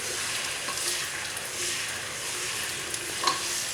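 Spinach and fish cook in a pot, giving a continuous close sizzle with soft scraping and stirring sounds throughout and a brief utensil knock near the end.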